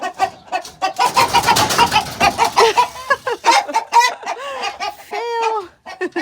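Chickens clucking in a chicken run, with loud, close, irregular clucks and squawks in quick succession, some rising into drawn-out calls.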